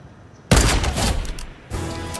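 Gunfire in the Fortnite video game: a sudden loud blast followed by a rattling burst, then a second report a moment later, with no speech over it.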